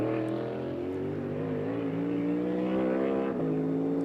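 NASCAR Cup Series race car engine howling steadily at high revs through a corner during a pole qualifying lap, loud and close with a brief pitch dip near the end, no talk.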